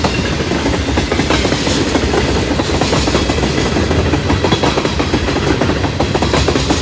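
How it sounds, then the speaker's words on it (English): A long coal freight train hauled by eight locomotives rolls past close by, a loud, unbroken roar of wheels with rapid rhythmic clickety-clack over the rails. "This train's supposed to have 500 axles according to the defect detector"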